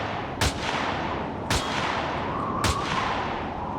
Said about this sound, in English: You just got to shoot through this grill here